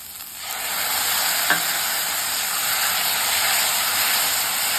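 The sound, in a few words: sautéing tomatoes with onion and ginger garlic paste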